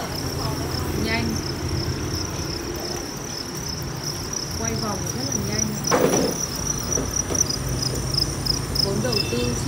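Crickets on a cricket farm keep up a dense, steady high-pitched chirping throughout, while a voice talks over it.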